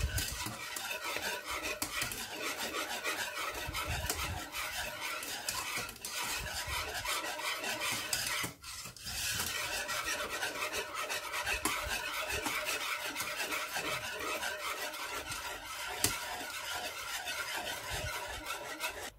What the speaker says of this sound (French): vous allez continuer à touiller, à mélanger à feu doux le temps que ça épaississe